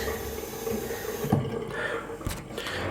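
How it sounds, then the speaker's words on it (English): Tap water runs in a steady rushing stream, loud and close, with its flow shifting in tone partway through. "water for little Grace"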